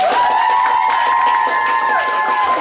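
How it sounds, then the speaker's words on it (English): Audience at a London spoken word night claps and cheers for the evening's performers, a dense, steady wash of applause with sustained whistles and shouts running through it. "Can we give a big round of applause to everyone who's performed tonight?"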